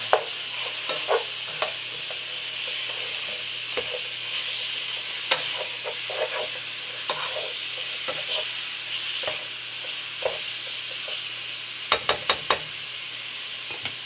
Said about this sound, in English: Throw in some ground beef. And start browning it.